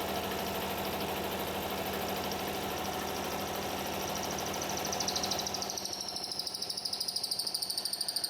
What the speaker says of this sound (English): I'm just using the mill on a slower RPM here to do that as well